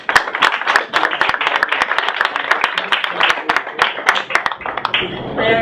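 Audience clapping to welcome a speaker at an anarchist bookfair, a moderate scattering of distinct hand claps in a loose, uneven rhythm that continues for several seconds before fading into a voice.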